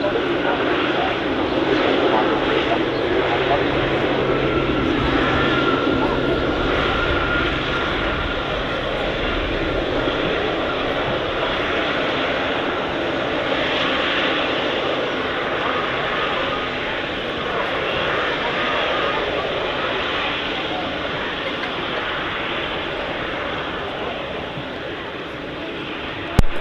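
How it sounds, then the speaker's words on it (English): An Emirates cargo aircraft at Manchester Airport gives a sustained, loud jet engine roar that holds steady, broad and rumbling for the whole stretch, with talk mixed in. "the Emirates aircraft is just carrying cargo and freight down to Manchester"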